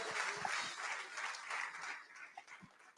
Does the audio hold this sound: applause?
yes